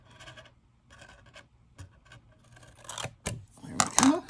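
Scissors cut apart a paper model during a calculus lesson on volumes, giving soft scattered snips and scraping rubs that grow louder and sharper toward the end, close and fairly quiet.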